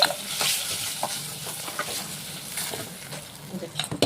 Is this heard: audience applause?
no